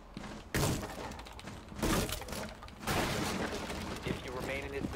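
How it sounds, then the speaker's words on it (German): Gunshots blast through a window in the tactical shooter Rainbow Six Siege, with several loud, sharp impacts and bursts separated by short pauses, under someone talking. "Wer schießt das Fenster da rein?"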